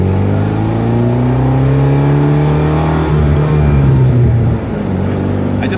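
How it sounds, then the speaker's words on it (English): A 40-year-old 1979 Alfa Romeo Alfetta 2.0 with a two-litre four-cylinder engine, once a police car, drones loudly and steadily from inside the cabin while driving, its pitch rising slightly and then easing off near the end. "It's just a 2-liter four-cylinder engine that's 40 years old."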